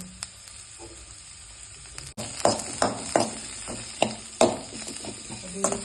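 Onion, garlic and curry leaves fry in a pan while being stirred, with repeated scraping and clinking strokes at a steady rhythm over a soft sizzle, close and moderately loud.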